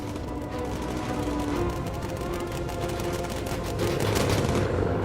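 Rapid machine-gun fire in the Bomber Crew video game as a bomber comes under attack, a dense, continuous rattle of shots over low engine drone, loud and sustained.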